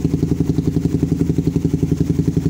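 A Suzuki GSX-R 150 motorcycle with a locally made aftermarket exhaust idles close by, its engine thumping in a fast, even pulsing rhythm with no talk.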